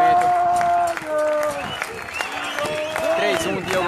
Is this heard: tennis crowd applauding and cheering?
yes